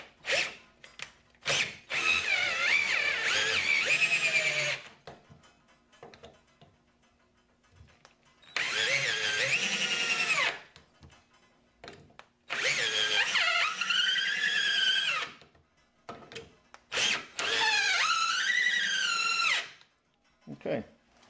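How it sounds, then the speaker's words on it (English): A Warrior 18V cordless drill at its highest torque setting drives 3.5-inch screws through two 2x4s, whining up in about four loud, multi-second bursts separated by short pauses. "we're going to stay at the highest torque setting and we're going to see if we can get the rest of these screws in"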